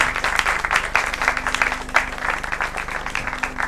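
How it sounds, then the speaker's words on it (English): Studio audience at a televised secondary school oratory competition applauds steadily, a dense, continuous clapping throughout with no talk over it. "A round of applause for yourselves."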